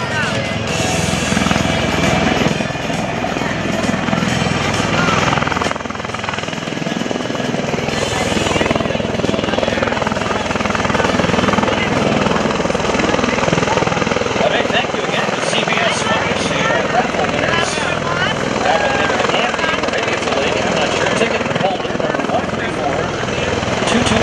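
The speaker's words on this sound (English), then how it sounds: "right now, the MV-22 Osprey from your United States Marine Corps at Airshow Center." An MV-22 Osprey tiltrotor from the US Marine Corps flies a demonstration at a Rhode Island Air National Guard airshow, its loud, steady rotor and engine roar continuous throughout, with an announcer talking over it.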